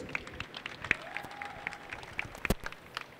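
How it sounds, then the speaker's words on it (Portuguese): Audience applause for a samba school president at a packed indoor court during a carnival plot presentation, scattered individual claps sounding close and sparse over a murmuring crowd, with a tone sweeping up in the background. "Aplausos para o presidente Luizinho Guimarães."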